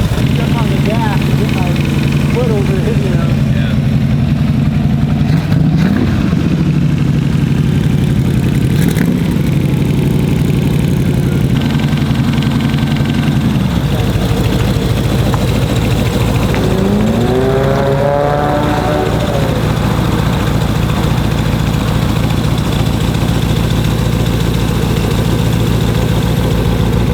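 The engine of a custom Mad Max–style trike with a sticking choke idles loudly and unevenly, blipping up in pitch a few times. Someone talks over the steady close rumble.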